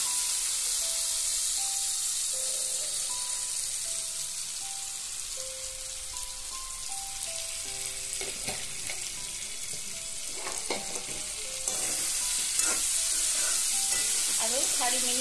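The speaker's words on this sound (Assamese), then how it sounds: "আৰু 4 মিনিট সময় মই ভালকৈ ভাজি" Bottle gourd stirs and fries in hot oil, a steady sizzle carrying on throughout with a spatula scraping and clattering in repeated strokes, growing busier toward the end; no one speaks.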